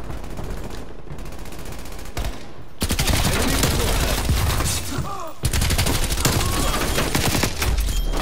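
An XM4 rifle fires in a first-person shooter video game, with rapid, loud bursts of automatic gunfire and a brief lull before the shooting resumes.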